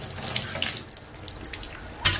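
Bathtub faucet running in a tub being converted into a shower, a close, steady splashing stream of water with bright hissing bursts and a small clunk near the end, no voices.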